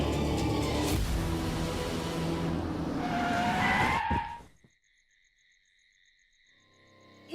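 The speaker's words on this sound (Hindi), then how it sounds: "यहाँ गाड़ी क्यों रोक दी?" A car brakes hard to a stop, its tires squealing in a long skid over engine noise and road roar that cut off suddenly, leaving near silence with faint insect-like chirping afterward.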